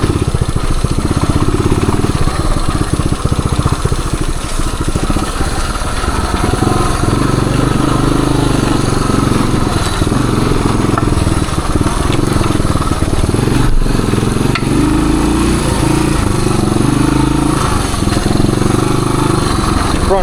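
A 1978 Suzuki DR370 motorcycle engine runs steadily at low revs in second gear for a long stretch, loud and close, with a chugging, slightly clattering drone and no talking.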